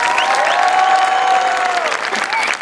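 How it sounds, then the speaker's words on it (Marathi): An audience at a comedy stage show's mock award ceremony applauds the guests, a short, dense burst of clapping with a voice rising over it. "टाळ्यांचा आवाज ऐकलात का सर?"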